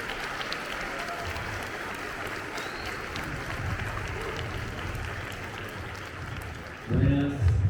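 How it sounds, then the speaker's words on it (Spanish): Crowd applause at a political talk in Mendoza, a dense, steady patter of many hands that holds at one level throughout, with voices mixed in and a louder burst near the end. "Un aplauso grande y lo dejamos con ustedes."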